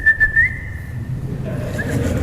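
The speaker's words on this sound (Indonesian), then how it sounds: "Siulan dulu." Audience members at an Indonesian religious lecture whistle a sustained, fairly loud tone that slides slightly, then fades into low crowd murmur and a fainter second whistle near the end.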